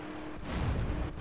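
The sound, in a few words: explosions in the video game GTA San Andreas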